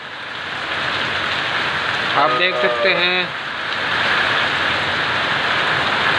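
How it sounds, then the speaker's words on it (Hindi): Heavy rain pours over farm crops with strong gusts of wind: a loud, steady, close hiss throughout. Someone speaks briefly in Hindi partway through. "ज़बरदस्त बारिश हो रही है।"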